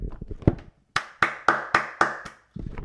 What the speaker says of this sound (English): Let me clap it up for J-Train.